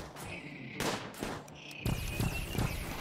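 Rapid gunfire in the video game RimWorld as a mechanoid is shot at, with dense crackling bursts and repeated sharp reports over a steady, busy game background.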